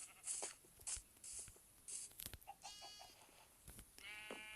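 Several short sheep bleats from Minecraft, mixed with clicks and bursts of game sound effects, fairly quiet and busy throughout.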